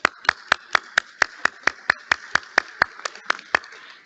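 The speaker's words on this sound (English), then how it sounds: "I would also want all my colleagues here to join and give a round of applause to all the presenters." A round of applause for presenters at a UN climate negotiation session in Madrid comes as a steady, evenly paced run of about sixteen crisp claps, moderately close and with no talk over it.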